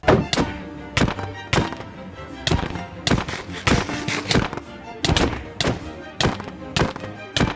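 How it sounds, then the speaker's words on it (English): Orbital strike cannon in a video game firing over and over, loud heavy booming blasts arriving in a fast irregular barrage, about a dozen impacts across the stretch with no talking. "Orbital strike cannon fire!"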